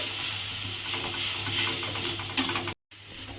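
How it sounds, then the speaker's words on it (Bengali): Onion, ginger and garlic masala fries and is stirred in a pan for a paneer and okra dish, making a steady close sizzle with scraping stir strokes and a brief drop to silence near the end. "মিশিয়ে নিয়ে এই পেঁয়াজ আর আদা রসুনের মধ্যে কিন্তু আমি এটা দিয়ে দেব দিয়ে এটা কিন্তু খুব ভালোভাবে কষিয়ে নিতে হবে"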